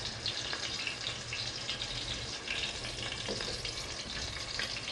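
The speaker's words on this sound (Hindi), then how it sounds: "आराम आराम से फ्राई पैन में सारे कोफ्ते फ्राई कर लीजिए।" Chicken koftas frying in oil in a frying pan, a steady, dense hiss and crackle that stays loud and even throughout, with no voices.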